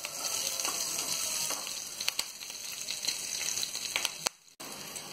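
Green chillies frying in a pan give a soft, continuous sizzle with scattered crackles and spoon ticks, cutting out briefly near the end.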